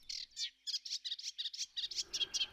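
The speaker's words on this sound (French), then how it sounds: "Les oiseaux migrateurs qui avaient tous fui la rigueur de l'hiver sont de retour." Migratory birds sing in a reed bed, a rapid series of high, chattering chirps repeated in quick bursts, fairly faint and clear with a soft background hiss.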